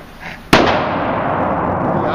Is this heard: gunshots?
yes